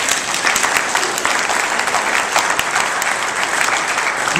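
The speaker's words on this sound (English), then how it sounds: "Give them a big round of applause." Loud, steady applause from an audience at a real estate training seminar, dense clapping holding evenly throughout without a break.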